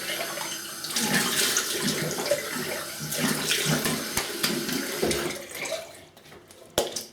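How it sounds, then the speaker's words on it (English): Running tap water splashes steadily into a sink as a face is rinsed after a traditional wet shave, close and continuous with small splashing variations, ending with a brief knock. "I'm going to have a quick rinse"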